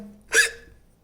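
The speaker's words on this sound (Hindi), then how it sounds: "सॉरी, हिकअप्स आ रही हैं" A single sharp hiccup sounds close to the microphone, short and abrupt against near silence.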